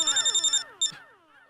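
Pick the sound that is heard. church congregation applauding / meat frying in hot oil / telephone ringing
telephone ringing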